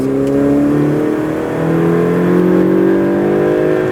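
Ferrari 488 Pista engine on a racing circuit, revving loud and close under throttle with a steady, rising tonal drone and harmonic whine, no pauses.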